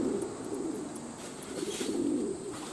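Pigeons bathing in a rain puddle give low, repeated throaty coos close by, a soft continuous murmur with faint chirps and light splashing in the background.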